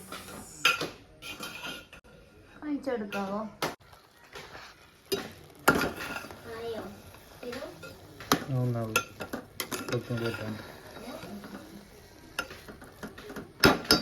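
Prawn biriyani rice is stirred through masala in a pot, producing scraping and clinking of a spoon against metal in irregular bursts, with faint sizzling and a person talking intermittently.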